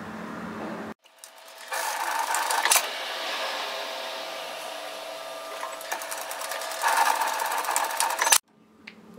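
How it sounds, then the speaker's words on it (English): A sewing machine runs steadily for several seconds, stitching a 1 cm seam across both sides of a flutter sleeve top, starting abruptly and stopping cleanly at the end; no voices. "we're sewing a 1 centimetre, 3/8 of an inch seam across both sides"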